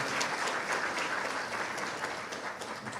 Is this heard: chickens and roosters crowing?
no